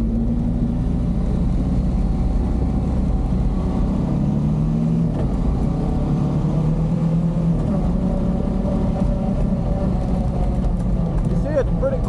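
A Honda Pioneer 500 side-by-side's engine runs steadily, a low continuous drone and rumble under outdoor riding noise, with someone talking over it.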